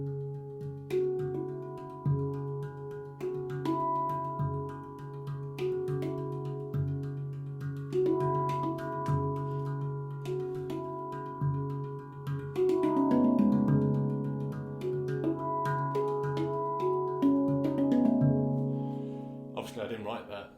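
Handpan playing a flowing melodic pattern with soft ghost notes and quick semiquaver runs, ringing steel tones sustaining and overlapping at a steady moderate volume, close and alone with no voices.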